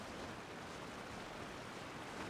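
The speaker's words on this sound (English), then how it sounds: "Where's that waterfall noise coming from?" A waterfall in the video game Genshin Impact gives a steady, faint rushing wash of water that runs continuously and evenly, with no voices over it.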